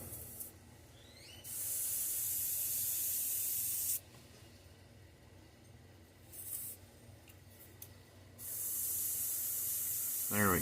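Airbrush-style paint spray hisses in three sustained bursts onto a Mayan cichlid fishing lure, thinned paint going over red; loud steady spraying separated by quieter gaps with faint handling noise.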